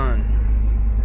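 Porsche 911 engine settling into a steady idle just after starting, parked in neutral; a loud, continuous low rumble with a brief rising starter whine at the very beginning.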